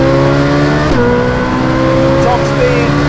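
A Ferrari supercar engine, either a 458 Speciale or a 488 Pista, revving hard on a road with a loud sustained high-pitched wail, a gear-change dip near the one-second mark, and a voice talking over it.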